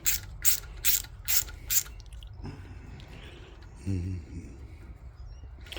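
Small Harbor Freight screwdriver turning a screw on a 1406 Edelbrock carburetor during an accelerator pump replacement, giving five loud, evenly spaced ratcheting clicks up close, followed by quieter fiddling and scraping sounds.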